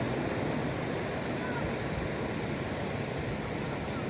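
Ocean surf washes steadily onto a black sand beach at Nasugbu, littered with storm debris after a typhoon, a continuous broad rushing roar that stays even throughout, with no clear breaks between waves.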